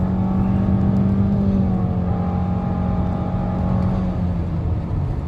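A Nissan Altima 2.5 SV pulls away from a dead stop, its engine droning loud and close inside the cabin with a steadily rising tone that eases off near the end.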